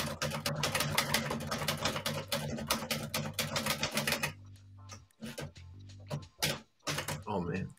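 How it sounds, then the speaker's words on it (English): An old manual typewriter clatters in quick bursts of keystrokes at close range, with people talking over and between the typing. "Should I switch the typewriter?"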